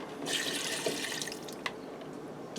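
Water pours steadily into a Ninja Foodi pot holding dry spaghetti for taco spaghetti, a continuous close splashing stream with a small clink partway through and no talking.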